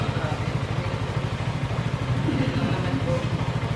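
New CF Moto 300SR motorcycle engine running at a showroom, a fairly steady low throbbing close by, with someone talking over it.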